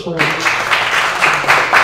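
An audience at a trading and investment talk breaks into a short burst of clapping, with rhythmic pulses rising and falling while a voice lingers faintly at the start.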